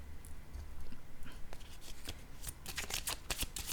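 Tarot cards being shuffled, with a quiet rustling that builds into a rapid burst of crisp riffling flutters near the end, close and faint.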